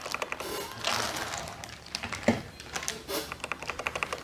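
Someone types on a mechanical keyboard fitted with PBT lavender keycaps, giving a close run of crisp clacking keystrokes, brisk bursts with short pauses and a quicker, evenly spaced patter near the end.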